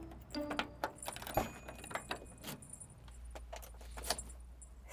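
Keys for a kei van jangle and clink in short irregular bursts during manual unlocking, close and fairly quiet, with no voices.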